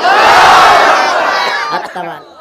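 A large crowd at a religious gathering roars a takbir chant in unison. It is loud and sustained, then fades into scattered voices.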